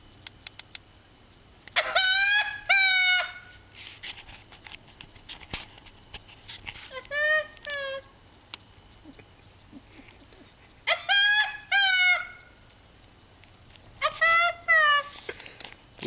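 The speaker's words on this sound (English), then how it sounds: "the laughing owl has come out" A laughing owl calls at night during a semi-primitive camping trip at Alderman's Ford, giving four bursts of loud, rising, cackling hoots spaced several seconds apart, one sounding close, over quiet night background.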